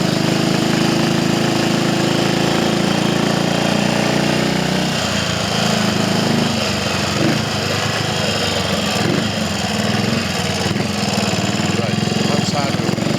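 A stock Triumph Tiger Cub motorcycle engine with 7:1 compression and standard cam runs steadily at a rough, loud idle, close by, its note shifting slightly partway through, with no clear speech.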